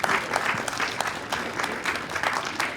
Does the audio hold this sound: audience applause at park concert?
yes